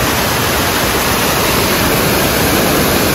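Kiwai waterfall in Kaghan pours with a loud, unbroken roar of rushing water, dense and close, with no voices.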